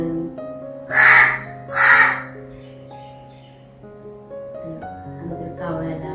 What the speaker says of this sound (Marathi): अगोदर कावळ्याला आपण खायला देऊया आणि त्यानंतर ब्लॉग सुरू करूया.